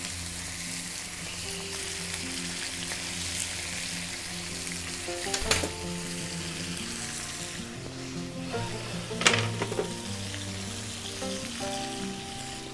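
Steak fries in a pan with a continuous sizzle, joined by a few sharp clatters of utensils and low background hum; no voices are heard.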